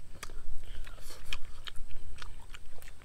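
Crisp, crackly bites and wet chewing of spicy, crunchy roasted lechon cooked outdoors, several sharp crunches close to the mic with faint murmuring in the background.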